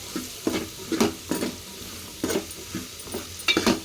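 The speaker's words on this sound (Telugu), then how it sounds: "మొత్తం ఒకసారి కలిపేసుకుందాం." Ridge gourd pieces stirred into masoor dal curry in a pan: repeated soft wet scraping strokes of a spoon in a steady rhythm, close up over a gentle sizzle, with no talking.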